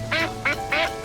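A duck quacking three times in evenly spaced, loud nasal calls close by, with a fourth call starting at the end, and no speech.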